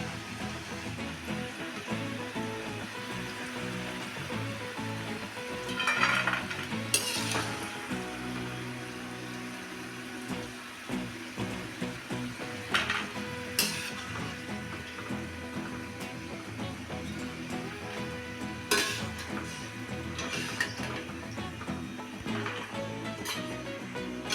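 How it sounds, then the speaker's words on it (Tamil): Masala cashews fry in hot oil, giving a steady soft sizzle with occasional clinks and scrapes as they are stirred, at moderate level with no talking. "இதே மாதிரி நம்ம எல்லாத்தையும் எண்ணெயில் போட்டு வறுத்து எடுத்துக்கணும்"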